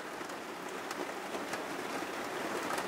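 Rain pours outside a caravan in Rome as a dense, even hiss of drops striking surfaces, continuous and fairly close with no voices.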